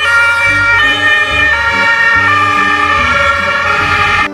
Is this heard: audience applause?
no